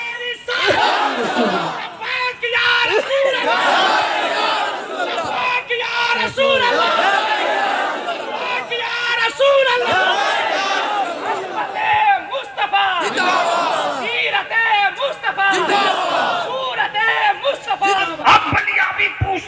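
Large crowd roaring back in unison to the Nara-e-Takbir call at a religious gathering, repeated loud chanted shouts rising and falling over about twenty seconds, with voices and chatter mixed in.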